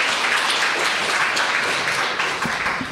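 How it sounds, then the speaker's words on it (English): An audience gives a warm round of applause for a guest author at a talk, dense steady clapping that is loud and close, tapering slightly toward the end with no speech. "If you could please give her a round of applause."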